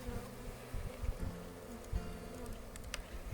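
A low, steady drone of many honey bees buzzing nearby during a hive inspection, with a few sharper clicks and knocks over the hum.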